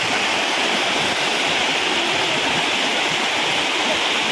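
Shoolam waterfall roaring as a dense, steady, loud rush of falling water, close and unbroken throughout with no voices.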